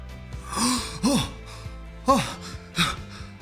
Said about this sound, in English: God breathed life into him